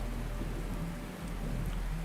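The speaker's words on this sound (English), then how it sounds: "look at the rain" Steady rain falls in the SWTOR video game, an even hiss of droplets with a low rumble beneath, continuous and moderately quiet with no talking.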